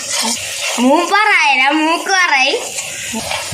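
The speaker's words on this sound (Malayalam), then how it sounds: "ചിപ്പി പൊരിച്ച എണ്ണയിൽ നമുക്ക് ഇഞ്ചി ചേർത്ത് കൊടുക്കാം. ഇഞ്ചി നമ്മൾ 100 ഗ്രാം ഇഞ്ചി ഇട്ട് മൂപ്പിച്ചെടുക്കുകയാണ്" Ginger, about 100 grams, fries in oil left from frying mussels for a Kerala mussel pickle, a steady close sizzle heard under a voice talking over it.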